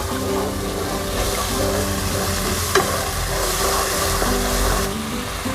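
Chicken with cashew nuts stir-fried in a hot pan with seasoning sauce, pork seasoning powder and sugar, giving a steady close sizzle with scraping stirs that continues throughout without talk.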